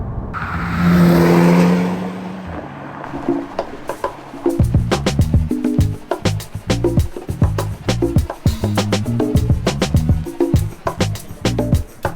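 A Porsche 991.2 Turbo S idles and warms up, first with a brief loud starter flare, then a steady burbling idle broken by rapid rhythmic clicks and ticks, close and alone.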